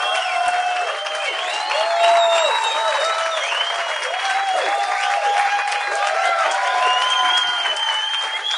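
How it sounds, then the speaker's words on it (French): A crowd applauds loudly and steadily, sustained clapping with some cheering mixed in throughout. "J'aimerais qu'on donne une bonne main d'applaudissement aux gars qui sont ici."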